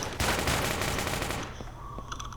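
A small gun in a video game fires a rapid, loud stream of shots for about a second and a half, then stops, leaving a few faint clicks and tones.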